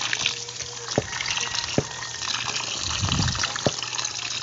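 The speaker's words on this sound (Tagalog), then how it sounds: "dito na lang natin lagyan ng tubig" Water splashes and gushes steadily into a container, with a few sharp knocks against it and a faint voice in the background.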